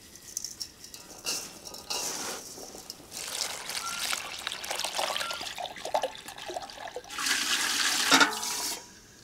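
Brine for pickling and preserving garden vegetables pours and splashes into jars, with intermittent gushing bursts, trickles and the clink of glassware, heard up close with no speech over it.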